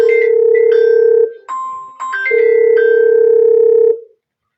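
Telephone ringback tone on a call that goes unanswered: steady repeated electronic tones, loud and close, with a brief break of other beeps in the middle and no voice picking up.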